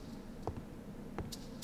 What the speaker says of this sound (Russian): Это мои шаги?